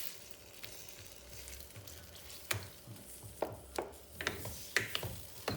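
Mushrooms frying in a pan for puttanesca sauce, a steady close sizzle with occasional sharp clinks and scrapes of a utensil stirring, no talking.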